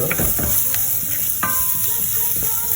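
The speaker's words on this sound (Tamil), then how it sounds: "இந்த மாதிரி கிளறி விடுவோம்" Onion and garlic fry in oil in a pan while a spoon stirs through them, giving a steady close sizzle broken by light scraping knocks, with no talking.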